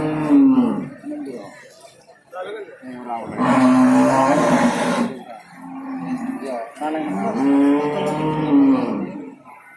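Bull at a busy cattle market in Jatirogo, Tuban, East Java, lowing in several deep, drawn-out moos, loud and close, with market noise around.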